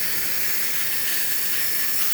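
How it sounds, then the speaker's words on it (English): The steam wand of a La Pavoni Piccola lever espresso machine hisses steadily and loudly, a continuous bright rush of steam with no pauses and no voices. "And now for the steam."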